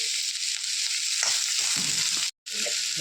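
Onions sauté with salt in a hot pan, giving a steady close sizzle and frying hiss with soft stirring scrapes underneath and a sudden brief dropout near the end.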